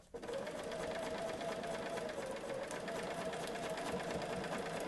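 Sewing machine stitching a line across an Alison Glass Trinket quilt block, a steady continuous whir that starts abruptly and runs without pause, close and fairly loud.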